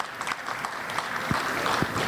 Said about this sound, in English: Let's get one more round of applause for Mayor Larry Klein.